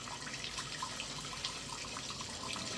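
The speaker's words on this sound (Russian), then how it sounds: "Просто наверху образовалось отверстие, в которое стекает вода." Water trickling steadily down into an opening, a continuous soft splashing and dribbling at moderate distance with no voices.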